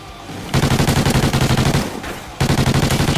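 Rapid automatic gunfire from the Call of Duty: Ghosts video game, in two long bursts split by a short pause near the end, loud and close, no talking.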